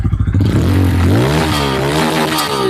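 A Bajaj Pulsar motorcycle engine is revved hard from a lumpy idle, the pitch climbing and dipping, then held high and loud up close.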